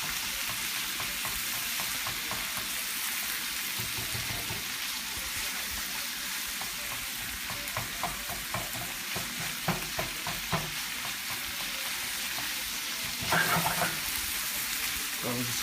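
Ground pork sizzles in a pan for a basil stir-fry as a spatula breaks it up, a constant close frying hiss with repeated scraping and tapping strokes, a brief louder clatter near the end.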